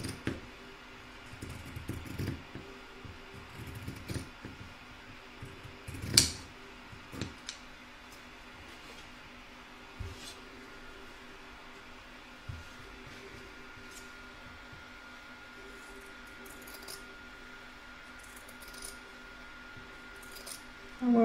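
Fabric for a crazy patch Christmas stocking is trimmed back with scissors: scattered, close, fairly quiet snips and clicks come in irregular bursts separated by hushed pauses.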